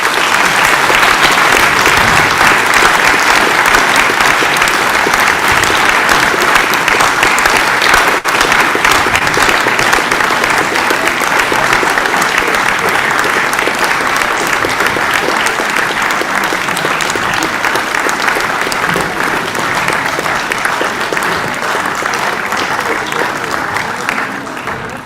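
Sustained audience applause at the Tynedale Sports Awards 2021, greeting COVID heroes as they walk to the front. Dense, steady clapping fills the room for about twenty-five seconds and tapers slightly near the end.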